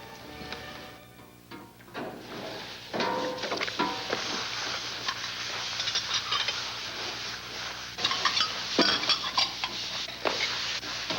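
Metal pots and pans clank and clatter in uneven bursts, with sharp rattling hits scattered throughout and a low steady hum underneath.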